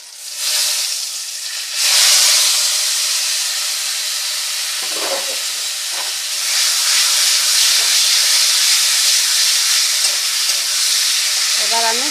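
Boiled taro leaves hit a hot pan with a loud, steady sizzle and hiss, rising after a short pause and continuing with occasional stirring clinks, close up.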